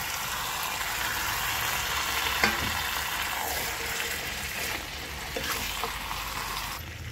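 Fried potatoes hit a pan of cooked mutton and spices, giving a soft, continuous sizzle with a few light scrapes and knocks as they are stirred in, fairly quiet and without voices.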